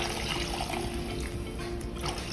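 Water poured steadily into a pot of tough meat simmering on low heat for Nigerian egusi pepper soup, a continuous close splashing trickle with no talk.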